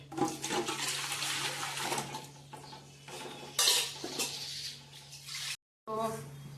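Boiled dal dhokli being tipped into a metal cooking pot for a Gujarati dish: clattering pot and utensil knocks with wet splashing and stirring, fairly close, in steady bursts with a short silent gap near the end.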